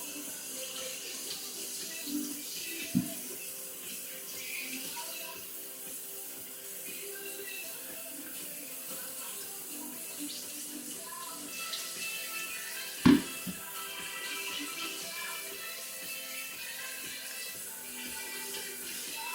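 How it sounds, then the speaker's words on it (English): Potatoes scrubbed under a running kitchen tap, water streaming steadily and faintly in the background, with a couple of brief knocks against the sink. "I'll wash up a few at a time. Just scrub them."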